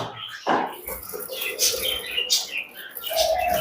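Pet finches and budgerigars at a home bird farm chirp and tweet in short bursts, a few high calls scattered over a faint background hum, fairly close.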